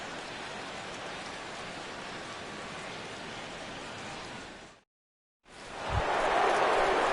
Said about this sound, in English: as the rain continues to fall here